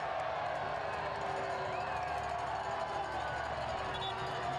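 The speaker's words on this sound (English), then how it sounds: "You can hear the crowd jeering" A large crowd roars at a soccer stadium, CHI Memorial Stadium, during a Chattanooga Red Wolves SC versus Charlotte Independence match, a steady distant wash of jeering and shouting with a commentator's voice over it.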